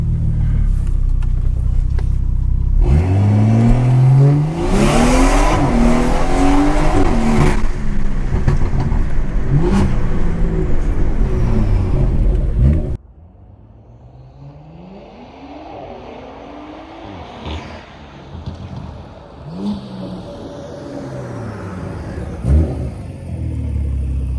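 A BMW 340i engine running on ethanol roars and revs loudly with rising pitch sweeps while accelerating, then drops to a quieter, rumbling drive with occasional further revs; no voices.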